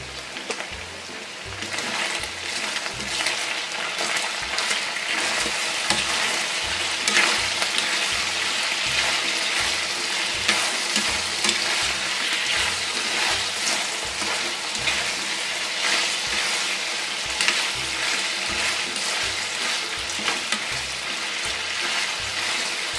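Chicken pieces frying in a pan until golden brown, a steady dense sizzle and crackle of hot oil running throughout, with a faint rhythmic low thumping beneath and no voices.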